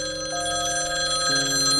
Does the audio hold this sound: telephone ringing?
yes